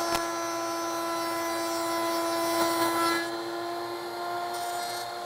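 A power tool cuts into wood for a double dovetail joint, giving a steady high whining tone that holds for a few seconds, then trails off as the cut finishes.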